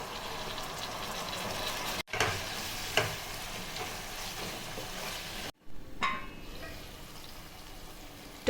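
Chopped medium tomatoes frying in a pan with garlic paste for egg masala, a steady soft sizzle throughout, broken by a couple of stirring scrapes and clatters.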